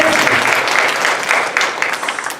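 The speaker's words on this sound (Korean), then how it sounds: "우리 하나님께 영광의 박수 올려드리겠습니다" A church congregation at a Korean mission conference bursts into dense, steady applause, many hands clapping close and loud for the whole stretch without any voices rising above it.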